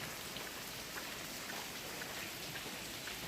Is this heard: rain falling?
yes